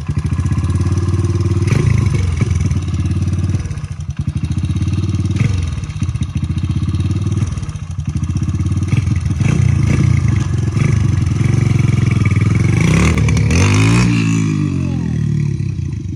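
A Honda CRF100 dirt bike running on E85 fuel starts and revs up close and loud, its engine roaring in repeated throttle blips with rough, uneven breakup between revs.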